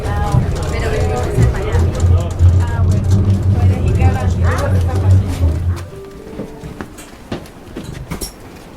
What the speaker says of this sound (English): we took the funicular called the Flying Dutchman and were at the top in a few minutes